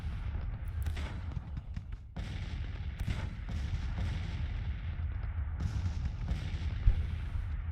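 Civil War artillery in Grand Tactician: The Civil War, a steady roll of cannon fire with sharp reports scattered over a continuous low rumble, fairly close and with no talk over it.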